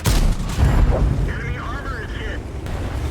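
Heavy cannon blasts from the Renegade tank in a video game, booming low and dense across the clip with a rumbling tail, layered under other battle noise.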